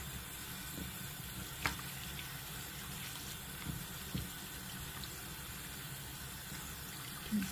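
Tap water runs steadily to rinse conditioner out of hair, a soft continuous hiss with a few faint knocks and splashes, no speech.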